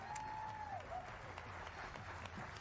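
Studio audience applause for a television panel introduction, a steady wash of clapping through the short stretch with a faint tone rising briefly at the start.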